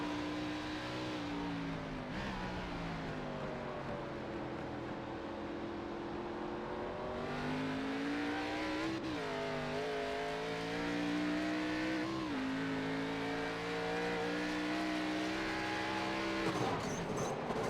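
ARCA Series race cars at Oran Park in a racing sim, engines whining and shifting pitch as they accelerate and brake through corners, a steady close engine drone with other cars audible nearby.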